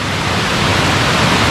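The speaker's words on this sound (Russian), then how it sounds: "вот он, водопад Боритовый." Boritovy waterfall high on a mountain run near Arkhyz, a steady, loud, broadband roar of falling water filling the whole clip with no breaks.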